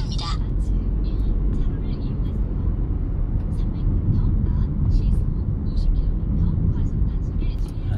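A car pulling away during a road driving test, its engine rumbling steadily at close range with a low road roar, while a voice talks quietly throughout.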